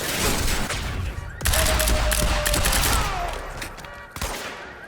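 Rapid bursts of gunfire in Quantum Break crackle close and loud, with sharp repeated shots and echoing impacts over a few seconds, briefly pausing before a last flurry.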